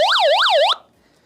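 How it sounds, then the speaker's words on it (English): A loud electronic siren from a portable camping power station wails in fast rising and falling sweeps, then cuts off abruptly, leaving near silence. "it sounds the siren and it flashes."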